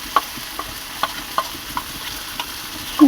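Spices fry in hot oil in a pan for a rohu fish curry with potato and eggplant, a soft continuous sizzle broken by light, scattered stirring clicks up close, with no talk.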